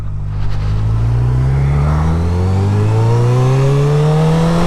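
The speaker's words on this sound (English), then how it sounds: "Oh, listen to that engine." A motorcycle engine revs up loudly and close by, its pitch climbing steadily in one long acceleration, on a road in Wales between Abergavenny and Pontypool.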